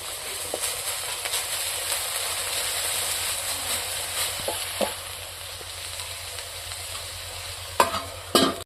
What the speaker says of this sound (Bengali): শাকটা ভাজা ভাজা হয়ে গেছে এখন নামিয়ে নেব